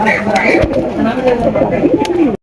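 Racing and fancy pigeons held for sale coo loudly and close, with soft throaty calls running steadily under a voice until the sound cuts off abruptly.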